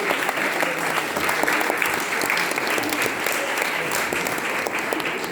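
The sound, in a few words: audience applause after lecture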